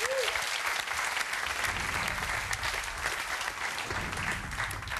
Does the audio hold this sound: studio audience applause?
yes